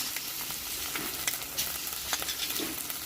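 Spice paste of ginger, garlic and cumin paste with salt, chilli and turmeric powder sizzles steadily in a pan for a gram flour and egg dish, with soft scattered crackles and stirring scrapes and no talking.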